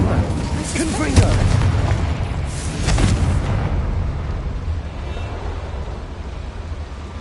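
The Confringo spell explodes against a boiler in the game Hogwarts Legacy, two deep booming blasts in quick succession followed by a rumbling tail that fades away.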